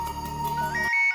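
A mobile phone ringtone plays a bright, repeating electronic melody over a steady low beat, close and clear, then shifts to a higher sustained tone as the beat cuts out.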